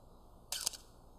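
A Canon AE-1 film camera fires its shutter at 1/30 second, one quick double-edged mechanical click, close and crisp against a quiet room.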